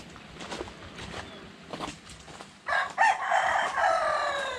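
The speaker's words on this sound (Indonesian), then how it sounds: "Ayam berkokok." A rooster crows loudly and fairly close in a garden with citrus trees, its long harmonic call arriving after a few seconds of quieter rustling and footsteps outdoors.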